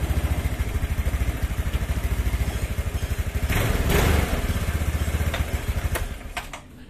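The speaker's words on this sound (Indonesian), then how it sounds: "nanti saya langsung selah sekali" A motorcycle kicked once with the kick starter fires up and runs, its engine settling into a steady thumping idle that stays loud and close before cutting off near the end.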